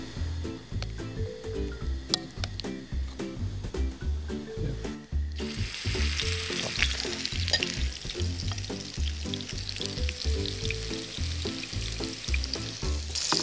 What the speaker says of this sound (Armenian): Ուղղակի իրան տապակում ենք, որ մի քիչ կորկա բռնի